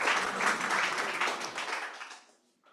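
A brief burst of audience applause at an investment summit finale, fairly close and full at first, then fading quickly to silence within a few seconds.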